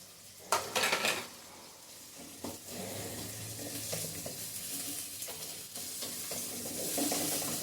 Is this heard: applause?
no